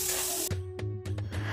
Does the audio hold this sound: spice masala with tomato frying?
yes